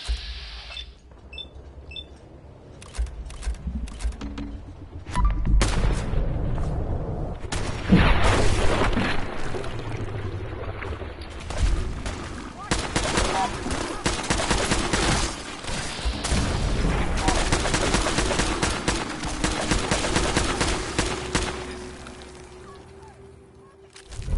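A battle in the video game Fallout 4 Far Harbor erupts into dense gunfire, with rapid shots and heavy booms in loud, overlapping bursts after a quieter opening, and occasional voices mixed in.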